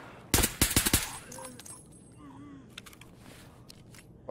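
Gunfire from a pistol in a shooter video game: a quick burst of five or six sharp, loud shots close together near the start, followed by quieter game ambience with faint scattered sounds.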